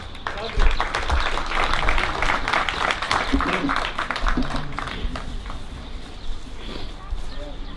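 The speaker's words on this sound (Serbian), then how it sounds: "Molim vas aplauz." An audience claps and cheers in sustained applause at a historical sword display in Leskovac, dense crowd noise continuing for several seconds with a voice talking over it.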